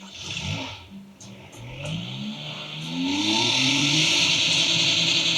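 A Porsche 911 engine of 2.0 litres, shown at the Porsche museum in Stuttgart, idles with a steady hum. It then revs up sharply, with the pitch climbing, and holds a loud, sustained note.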